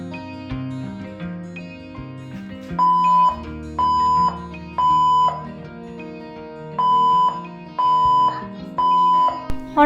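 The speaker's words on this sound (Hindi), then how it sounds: "ये फायर अलार्म जो है स्टार्ट हो गया था बजना" A home fire alarm beeps in repeated bursts of steady high tones. The beeps come in regular pulses over a background of other electronic chiming, loud and close, with no talking.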